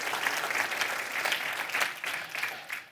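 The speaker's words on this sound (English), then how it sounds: "please give them a big round of applause" Audience applause at an accessibility summit's mainstage opening session, a steady dense wash of many hands clapping throughout, fairly close and full, with no talk over it.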